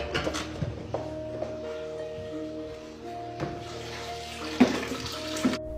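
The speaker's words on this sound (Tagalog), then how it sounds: "Una niya nakita ang gripong ito na kusang bumukas." A faucet that opened by itself lets water run steadily into a sink in a quiet restroom, a soft continuous stream with a few clinks and knocks heard close by.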